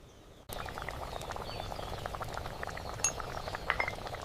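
Mooli salan simmering in a tiny village-style pot, a steady close bubbling hiss that starts abruptly and carries on with faint clinks and ticks.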